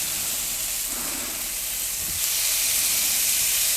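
Spiced lamb rump sears in a hot, oil-free pan, giving a steady loud hiss and sizzle that swells slightly partway through and carries on without talk.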